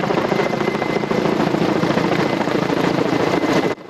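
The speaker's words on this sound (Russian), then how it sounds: "В это время над Олимпийским парком появляется вертолет МЧС К-32" A Ka-32 emergency services helicopter flies over an Olympic park during a fire-evacuation drill, its rotor thudding loud and close in a steady pulsing roar before cutting off abruptly at the end.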